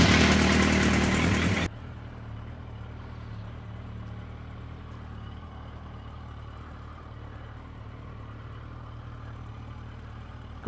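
A Suzuki Bandit 1250 motorcycle's engine runs loud and close for a moment, then drops to a low, steady rumble that carries on in the distance.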